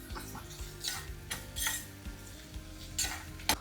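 Onions and garlic fry in a pan for betel leaf rasam, a soft sizzle running beneath repeated sharp scrapes and clinks of a spoon stirring against the metal, irregular bursts of stirring spread across the clip with no talking.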